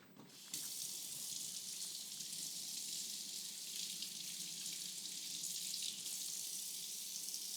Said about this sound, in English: If you just run it under some water, it'll just come right off.